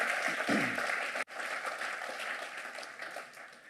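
A church congregation claps in steady, dense applause that fills the room, with a brief break in the middle before clapping resumes and slowly tapers.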